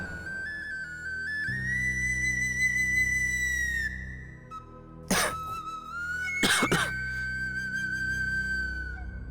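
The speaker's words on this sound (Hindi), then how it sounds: "बहुत खांसी आ रही है बेटा" Two short, sharp coughing bursts break through a steady background of music, with a quiet stretch between them.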